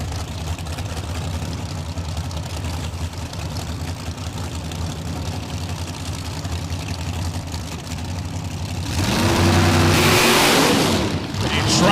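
A drag racing car engine at a drag strip, a steady low rumble at moderate distance that swells into a louder roar near the end, with an announcer talking over it.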